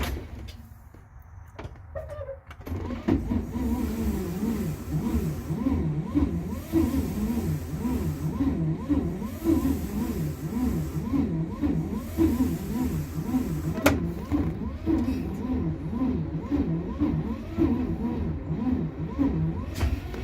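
A vintage Rolls-Royce Springfield Phantom 1 engine cold-starts on its starting carburetor: after a brief crank it catches and settles into a steady, loud, slightly uneven low idle with a rhythmic pulsing chug that runs on alone without talk.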